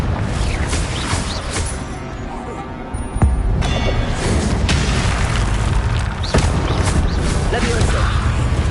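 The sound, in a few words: Confringo blasting spell explosion in Hogwarts video game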